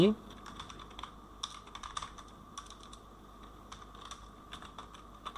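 Keys clatter on a computer keyboard in bursts of quick taps with short pauses between, close and fairly quiet, with no one speaking.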